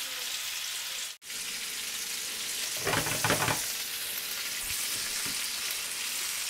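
Mutton chops grill in a grill pan over medium-low heat, giving a steady broadband sizzle throughout, with a brief louder burst of crackling near the middle and a few soft knocks.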